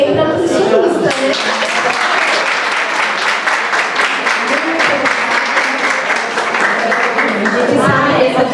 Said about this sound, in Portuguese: Palmas também para nutricionista, né?